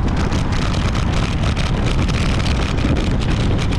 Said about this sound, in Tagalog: Dito lang ako cover kasi malakas ang hangin.